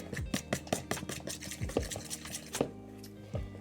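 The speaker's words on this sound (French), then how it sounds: "On mélange." A utensil whisks a lumpy crêpe batter of egg, flour and milk in a bowl, knocking the sides in a quick, uneven rhythm of clinks and wet stirring close by.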